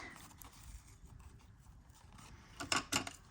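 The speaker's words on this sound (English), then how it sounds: "I'm just going to cut a piece to go into the slot" Scissors snip through a piece of paper for a bee-themed scrapbook mini album: quiet rustling and handling, then two sharp, close cuts near the end, with no talking.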